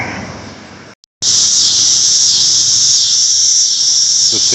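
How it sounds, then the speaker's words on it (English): Cicadas in trees droning in a loud, steady, high-pitched buzz, broken by a brief gap of silence before resuming and holding constant to the end. "These trees are alive with the sounds of cicadas everywhere."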